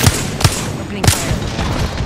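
Prowler firing on full auto in Apex Legends, with sharp, loud shots in quick bursts and brief gaps between them. A voice line is faintly heard under the fire.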